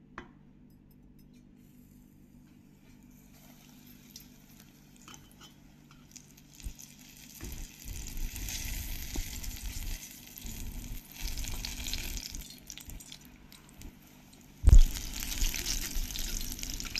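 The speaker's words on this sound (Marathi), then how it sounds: "मग आपण ते कढईत तेलात टाकूया" Gram-flour-coated kantola (spiny gourd) fritters drop into hot oil in a kadhai, starting quiet and building into a steady, close bubbling sizzle, with a sharp clatter near the end and no talking.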